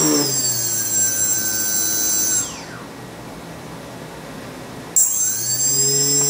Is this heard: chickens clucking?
no